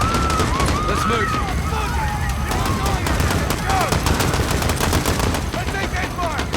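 Dense automatic gunfire and scattered shots in the Modern Warfare campaign at Piccadilly Circus, loud and continuous bursts with shouting voices mixed in.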